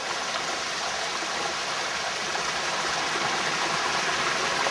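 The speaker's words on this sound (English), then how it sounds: "waterfall down there." A small waterfall on a rural country property rushes steadily, a continuous broadband wash of falling water, close and fairly loud with no voices.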